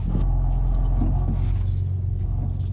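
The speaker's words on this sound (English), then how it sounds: "Do you hear my car rattling?" A car cabin rumbling low while driving, steady engine and road drone with faint intermittent rattles over it.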